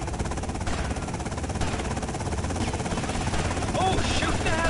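A helicopter drones in GTA Vice City, a dense continuous rotor and engine roar mixed with rapid gunfire and game effects, with someone talking over it.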